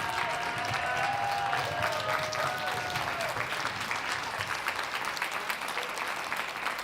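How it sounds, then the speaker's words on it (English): A large audience at a TEDx women's event gives sustained, dense applause, loud and steady throughout, with a voice briefly heard early on. "Stand up and give Eden Teodovich a round of applause."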